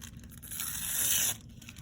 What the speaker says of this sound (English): So I'm gonna rip these.